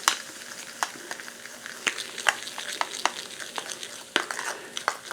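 Baking powder and hot water fizz and crackle while stirred together, a dense crisp sizzling with irregular sharp clicks of the spoon against the bowl, close and clear with no talking.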